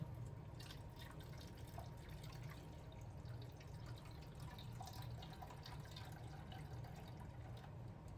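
Faint, steady trickle and drip of water being poured out of a worm composting bin into a small outdoor drain, a soft continuous flow with scattered drips and no talk.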